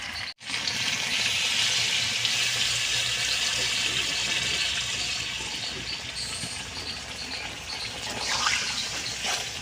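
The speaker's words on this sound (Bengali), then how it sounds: "মাংসটা সুন্দর করে আমার কষানো হয়ে গেছে আমি জল দিয়ে দেব" Water is poured into a pan of cooking chicken stomach, neck, fat and liver, a close, steady gush and sizzle that runs throughout after a sharp knock at the start.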